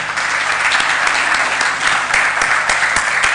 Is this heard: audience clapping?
yes